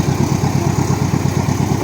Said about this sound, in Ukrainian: Трактор з боронами, з катком, культиватор.